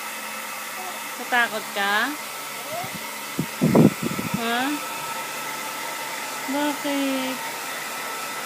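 A hair blower runs as a steady whir throughout, under a crying child and an adult speaking in Filipino.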